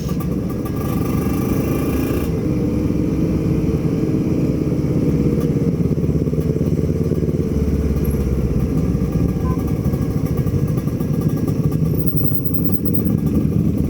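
A Yamaha R6 sport motorcycle with BK plates riding on a touring road, its steady engine drone and rumble continuous and fairly loud throughout, with wind noise and no talking.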